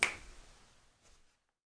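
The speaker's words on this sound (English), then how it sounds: "when I snap my fingers, you're going to wake up" A single crisp finger snap, close and sharp, followed by quiet with a faint short trailing noise.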